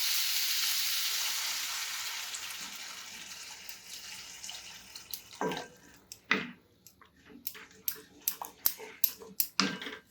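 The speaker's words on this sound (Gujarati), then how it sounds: "શક્કરિયાની આપણી જે છીણ છે એનો કલર ચેન્જ થઈ ગયો છે અને ઘીમાં સરસ રીતે શેકાઈ ગઈ છે" Grated sweet potato roasting in ghee for a traditional Gujarati kheer gives a steady broadband sizzle for the first seconds. The sizzle fades, then sharp clinks and scraping taps of stirring or utensils follow.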